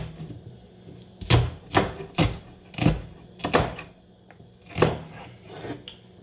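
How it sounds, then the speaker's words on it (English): A knife chops green onions for a Chinese stir fry with pork, about nine crisp thuds on a cutting board at an uneven, unhurried pace, close and clear with quiet pauses between strokes. "I'm also gonna cut up some green onions."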